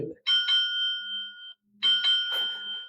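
A Fire-Boltt Cobra rugged smartwatch chimes an incoming phone call in two bright, sustained bursts separated by a short gap, clear and close with no talking.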